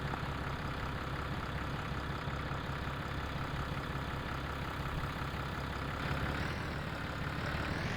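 Steady tractor engine idling and running in Farming Simulator 25, a dense, even drone that holds unbroken throughout with no talk.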